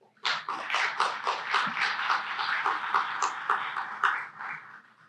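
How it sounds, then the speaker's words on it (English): A crowd at a regional summit on a university campus gives a round of applause, dense, lively clapping that starts abruptly and tapers off at the end. "I'll start by giving you all a round of applause"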